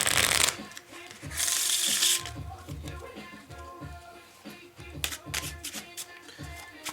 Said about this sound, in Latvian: no sākuma es jums iedodu kārtas un jūs viņus varat samaisīt